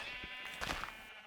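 Sheep in the farming video game Magic Maiden bleat once in a drawn-out, wavering call, faint and low in the mix, with no voice over it.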